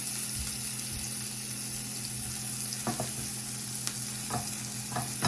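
Salmon and shrimp frying in butter with a little oil in a non-stick pan, a steady close sizzle with occasional stirring scrapes and soft pops, no talking.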